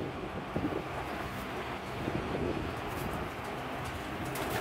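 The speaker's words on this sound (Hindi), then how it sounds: "हरा कबूतर आ गया" A pigeon coos softly a few times against steady wind noise, the calls low and muffled, with no voices present.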